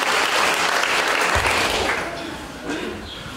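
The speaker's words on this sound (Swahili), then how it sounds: "Tumpigie makofi." Applause from a crowd at a wedding procession, loud, dense and steady clapping that carries on throughout, fading somewhat toward the end with faint voices mixed in.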